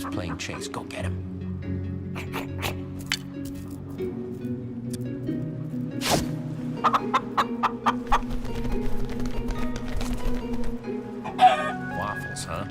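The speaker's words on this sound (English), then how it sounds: "Okay, you see that chicken?" A chicken in the Minecraft: Story Mode video game clucks in short, scattered bursts over a steady hum of game music and ambience, with a voice speaking partway through.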